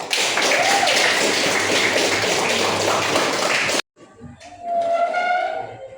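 Audience applause after a classroom presentation: dense, loud clapping that fills the first four seconds, then cuts off abruptly into a quieter passage with a sustained tone and softer sounds.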